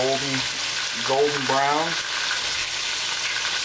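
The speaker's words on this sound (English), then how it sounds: "See that good sizzle?" Fish frying in a pan, a steady loud sizzle with broadband crackle throughout, while someone talks over it.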